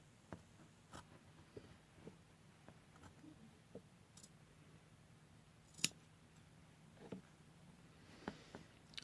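Quiet, sparse snips of scissors cutting material for costume paws, with occasional soft clicks and rustles close by and no talking.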